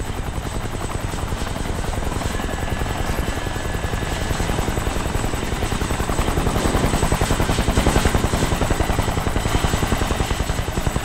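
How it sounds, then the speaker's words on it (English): Helicopter in the Kane and Lynch 2 video game, a loud steady rotor thump and engine drone running continuously, swelling slightly louder toward the end. "Chopper!"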